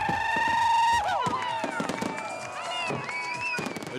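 Fireworks at a Saint-Tropez party burst with whistling rises and several sharp crackling pops, loud and near, over crowd noise and occasional voices.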